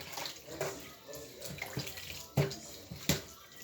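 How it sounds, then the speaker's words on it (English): Tap water runs steadily while peppers are rinsed in a sink, with a few louder splashes and clatters of handling near the mic. "I'm still washing so that the pepper can be washed off."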